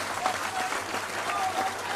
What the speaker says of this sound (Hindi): एक बार तालियां बजा के जोरदार स्वागत कीजिए सिंधिया जी का